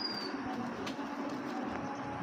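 A racing pigeon coos softly at a quiet distance, low repeated throaty notes over a faint steady background with no talk.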